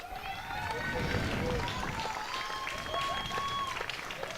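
Crowd at a fastpitch world tournament championship game applauding and cheering for veteran catcher Juan Zera: a steady wash of clapping and cheers from the stands, with an announcer talking over it.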